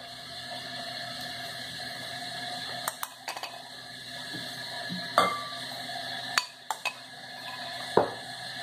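Ground jackfruit being scooped and moved into a bowl, heard as a few sharp clinks and scrapes of a utensil against a dish over a quiet background hum.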